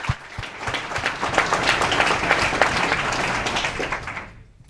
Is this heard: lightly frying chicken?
no